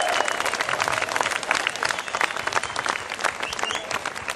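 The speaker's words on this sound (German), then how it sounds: "Es ist schön, dass der Applaus vorher kommt" Audience applause at a football club's 2009 season opening event, a steady dense patter of many hands clapping throughout, fairly loud and close, with no speech over it.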